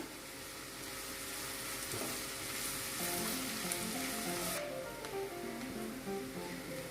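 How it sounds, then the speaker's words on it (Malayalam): Onions and curry leaves frying in a pan for semolina upma give a loud, continuous hiss of sizzling oil, heard close with faint stirring underneath and no talking. "ഇത് നന്നായി മൂത്ത് വരുന്ന വരെ നമുക്കൊന്ന് ഇളക്കി കൊടുക്കാം"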